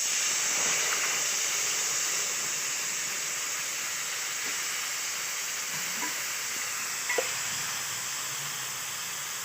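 Sour water for a radish tok hits a hot pan, giving a loud continuous sizzling hiss with steam. A couple of faint utensil taps sound through it, close with no talking.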